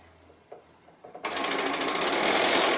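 A sewing machine runs steadily, stitching fabric for a chicken-shaped pin cushion, starting after about a second of quiet handling sounds and continuing loud and close without a break.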